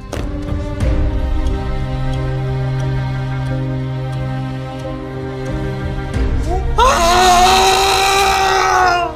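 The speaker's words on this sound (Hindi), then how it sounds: "चीखने की बहुत तेज आवाज आई थी।" A sustained droning tone plays, then a loud, piercing scream suddenly cuts in near the end and holds for a couple of seconds.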